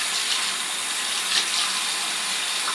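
Tap water pours steadily into a bathroom sink during rinsing, a close, constant hissing gush that runs without a break and without talk.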